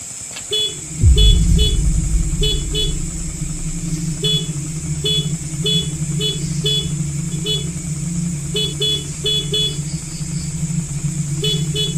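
A parked motorcycle's engine idles steadily at night while short horn-like beeps repeat in clusters over it, with a louder thump at the start and a constant high whine throughout.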